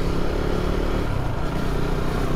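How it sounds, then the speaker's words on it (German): Loud Harley-Davidson motorcycles rumble steadily and close by, a dense, continuous engine roar that fills the whole span with no pauses. "Diese Harleys sind aber auch gottverdammt laut."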